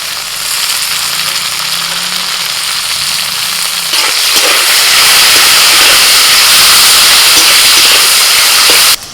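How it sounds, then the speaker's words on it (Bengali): Potatoes go into a pan of half-fried bitter gourd, and the steady hiss of oil jumps into a louder, denser sizzle that keeps going, with no voices. "করলাটা অর্ধেক ভাজা হয়ে গেছে এবার আমি আলু দিয়ে দিচ্ছি"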